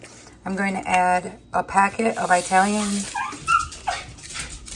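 A dog left indoors whimpers and whines in high, wavering cries, close and fairly loud, while someone talks over parts of it.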